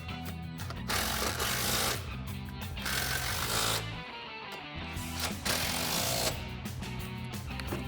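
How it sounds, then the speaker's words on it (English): An impact wrench with a 17mm socket tightens locking nuts on a strut tower brace on a 2015-2025 Mustang GT. Continuous loud mechanical rattling and hammering runs for several seconds, with brief dips and pauses between bursts. "We're going to grab our impact and 17mm socket."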